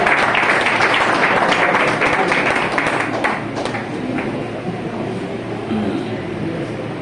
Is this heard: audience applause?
yes